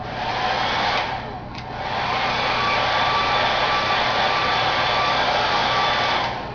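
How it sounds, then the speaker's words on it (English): A hair dryer blows steadily and loudly, heating carbon-fiber wrap on a 15-inch MacBook, its airy whoosh dipping briefly once before returning to a constant roar. "go ahead and get the hairdryer."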